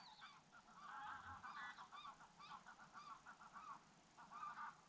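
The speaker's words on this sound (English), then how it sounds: "Two geese" A small group of geese honks repeatedly in a steady series of calls at moderate distance, outdoors at an evening fishing spot with faint background noise.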